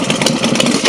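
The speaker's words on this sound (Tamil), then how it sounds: "மோட்டார் சைக்கிளோட சவுண்ட் நான் இதில் ப்ளே பண்ணுற பாருங்கள்" A motorcycle starting sound effect delivers a brief, loud, rough engine burst with a pulsing, idling rumble throughout.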